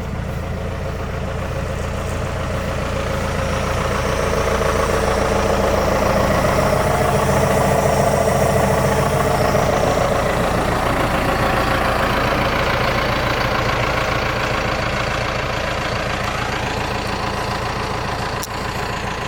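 A Ford F150 truck engine idles in a shop, a steady low rumble with a dense mid-range drone that swells slightly and holds evenly for the whole stretch, close and loud with no talking.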